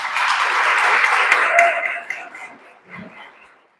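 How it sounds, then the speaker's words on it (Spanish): An audience at a provincial education congress applauds two presenters with a burst of steady, close clapping that swells briefly and then tapers off into quiet room noise. "Aplausos para los dos."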